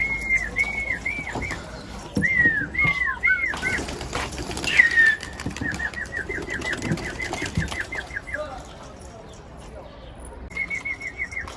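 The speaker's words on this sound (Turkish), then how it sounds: "Bir güvercinlerini uçur, evet, bir de kuşlarını seyredelim." Pigeons flap their wings in bursts as they are released to fly, with chirps and soft cooing, and a voice talking now and then in the background.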